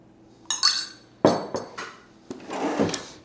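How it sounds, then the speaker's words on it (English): Rhubarb, sugar and water being stirred together in a pot, giving a few sharp spoon clinks and short scraping strokes spaced over a few seconds, close and fairly quiet with no voices. "Give this a quick mix."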